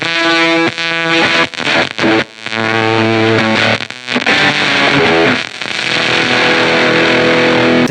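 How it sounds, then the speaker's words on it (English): A Pet Yeti distortion pedal pushed to extreme settings, a harsh, blown-out guitar tone with fizzy, compressed sustain that stays loud and dense throughout, broken by brief chopped dropouts near the start. "the distortion gets so extreme, the sound gets thrown against the brick wall so hard that it just flattens out into nothingness"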